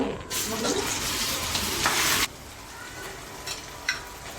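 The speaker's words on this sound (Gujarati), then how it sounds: "હવે એને આપણે વઘાર કરી દેવાનું, આપણે વઘાર દેવાનું છે।" Grated tomato and potato hit hot oil in a pan, setting off a loud, dense sizzle for about two seconds that drops off abruptly, followed by quieter frying and a couple of brief clinks.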